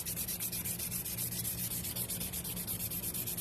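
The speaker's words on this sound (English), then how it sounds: "So this is just a fine hand sanding we're going to do" Steady, rhythmic back-and-forth rasping of fine sandpaper on a Gretsch Super Axe wooden guitar fingerboard, close and even, repeating quickly several times a second with no talking.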